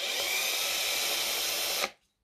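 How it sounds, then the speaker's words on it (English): A power drill whines continuously at close range for under two seconds, marking a hole for a scale model truck trailer light socket, then cuts off abruptly into silence. "I can just stick that drill down through the hole"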